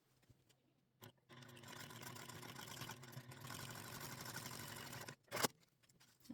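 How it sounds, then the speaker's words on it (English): A sewing machine stitching fabric panels together for a small handmade stuffed heart toy, running steadily for about four seconds between a brief start burst and a quick stop. "we're going to go ahead and sew exactly the same way that we did the other panel"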